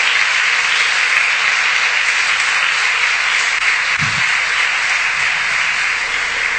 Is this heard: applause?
yes